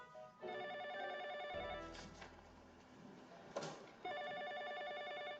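A telephone rings in an office with electronic trilling bursts, stops briefly while soft rustling and a couple of knocks or clunks are heard, then the ring resumes, fairly quiet and close.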